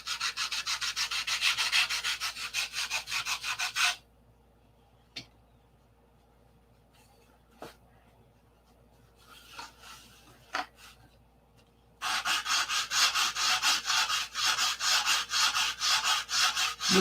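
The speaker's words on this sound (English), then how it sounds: "You listen to this sandpaper." Sandpaper rubs back and forth on a wooden flap in fast, rasping strokes, loud and close, stopping for several seconds of near quiet with a few soft knocks before the steady scratching resumes.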